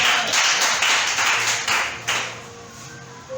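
Church congregation clapping during a French-language worship service, a fairly loud rhythmic wash of hands with faint tonal ringing in the background, fading toward the end.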